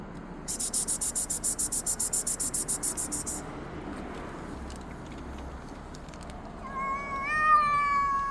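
A rapid pulsing insect-like chirp fades, then a cat lets out a loud, drawn-out meow close by near the end, during an evening feeding of cats.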